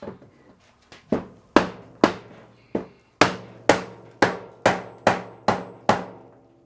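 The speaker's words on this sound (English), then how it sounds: "So I took a 2x4 and just kind of lightly hit it." A 2x4 lightly taps a RZR side-by-side door into alignment, a dozen sharp wooden knocks with ringing decay, spaced irregularly then settling into a steady rhythm, close and loud with no talking.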